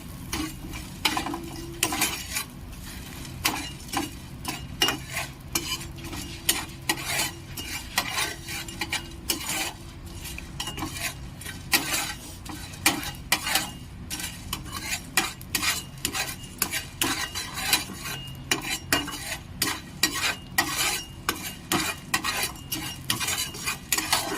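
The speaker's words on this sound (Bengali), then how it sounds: "একদম লাল করে ভেজে নেব।" Egg chowmein ingredients frying until browned in a pan, with a steady sizzle under constant rapid metallic stirring and scraping of a spatula against the pan, loud and close throughout.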